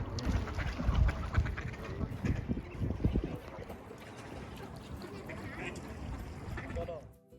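Ducks and geese quack and honk at a sanctuary pond in a Canadian regional park, busiest in the first few seconds, with people talking nearby throughout.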